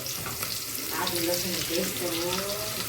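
Green onions dropped into hot oil already seasoned with curry leaves, sizzling and crackling steadily up close, with a faint stir.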